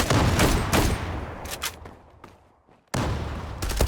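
Rapid automatic gunfire in the online shooter Zula, dense bursts of close shots that stop abruptly, a short lull with a few scattered pops, then another sudden loud burst.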